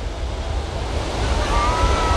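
Ocean surf rolling onto the beach at Baler, Aurora on a rainy early morning, a steady close wash of waves with wind buffeting the microphone throughout, no voices.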